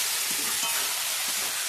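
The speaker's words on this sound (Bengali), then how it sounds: "আলুগুলোকে একটু নাড়িয়ে নেবো।" Fried potatoes stirred in a pan while cooking chicken curry, a soft continuous sizzle with faint scraping strokes, close and quiet, with no talking.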